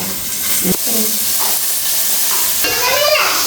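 Onions sautéing in a pan during home cooking on a rainy day, a loud, close sizzle with spoon scrapes and stirring, ending in a brief hiss of steam, no clear talk.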